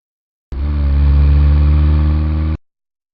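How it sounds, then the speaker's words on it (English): A tractor engine runs for about two seconds, a loud steady low rumble with a strong throbbing hum that starts and stops abruptly. "Tractor."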